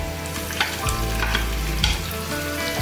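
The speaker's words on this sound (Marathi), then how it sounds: "आणि मिरचीलाही चांगलं फ्राय करून घ्यायचं" Green chillies and browned potato pieces frying in a pan for sabudana khichdi, a loud continuous sizzle close by with stirring scrapes throughout, no voices.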